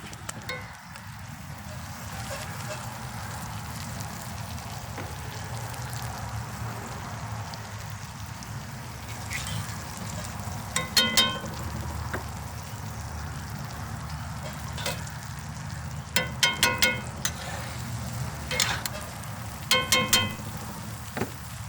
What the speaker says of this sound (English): we got us some steaks cooking, guys